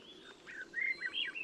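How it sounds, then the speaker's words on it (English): Swainson's thrush in a Panamanian cloud forest practicing its song, soft, fluting, rising and falling whistled phrases heard at a distance over faint forest ambience. "That's a Swainson's thrush, and it's practicing its song."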